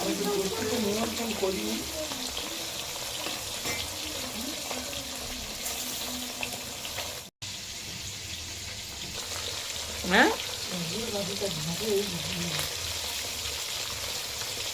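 Fish fries in a pan in a home kitchen, giving a steady, moderate sizzle that runs throughout, with a few clatters and a brief stir partway through.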